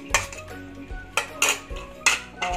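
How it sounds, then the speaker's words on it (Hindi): Paneer being put into a bowl while cooking veg dum biryani: several sharp clinks and knocks of a utensil against dishware in an uneven rhythm, close by with no speech. "अब इस पनीर को हम एक बाउल में डालेंगे"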